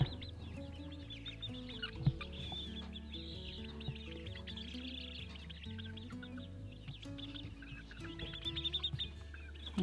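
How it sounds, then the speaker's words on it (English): Backyard homestead chickens, including a French Copper Maran, cluck and murmur in a steady chatter with occasional higher chirps, close and continuous with no talking. "And they're making some cute noises."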